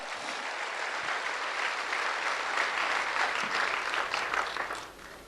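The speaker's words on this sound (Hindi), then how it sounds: "एक बार पवन सर के लिए भी जोरदार ताली बजा दीजिए, जोरदार।" An audience breaks into loud, continuous applause, a thick crowd of clapping hands that swells slightly midway and then drops away sharply at the very end.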